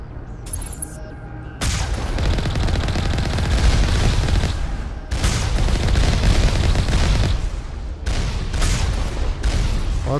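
Turret gunfire during combat in Mass Effect Legendary Edition on Feros, loud sustained bursts with heavy booming impacts, broken by a couple of short pauses before firing resumes.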